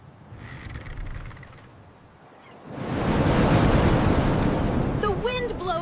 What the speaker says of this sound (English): The wind blows again!